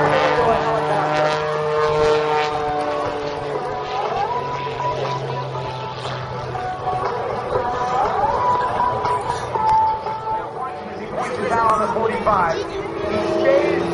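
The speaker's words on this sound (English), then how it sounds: "Head down out to stage right and slows the airplane down even more and more and slower and slower." A propeller aerobatic airplane at the 2011 Wings over Houston airshow drones steadily with a loud, wavering engine note, slowing and hanging in the air, while a crowd murmurs and an announcer talks.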